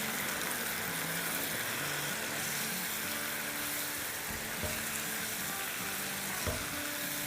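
Chicken masala boti sautéing in a pan over a medium flame, giving a steady, dense sizzle throughout with a few soft stirring knocks near the end, close and alone.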